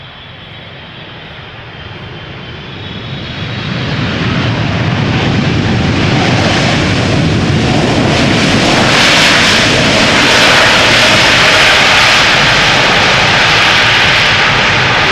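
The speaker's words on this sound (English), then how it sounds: "This airplane is a year old, first flight August 2022, nearly turning 2." A twin-engine jet airliner on approach to Schiphol's Polderbaan runway, its engine roar swelling from a distant rumble to a loud, sustained broadband roar that holds steady as the plane passes overhead, with no talk.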